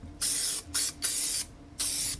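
Hogliners spray-on liner being applied to a motorcycle saddlebag lid, heard as four loud, close aerosol hiss bursts of varying length separated by brief pauses.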